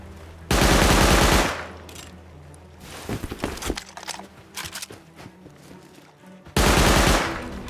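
Bursts of automatic machine gun fire in the video game Rust, loud sustained volleys at the start and end with scattered single shots and clatter between them, no talk.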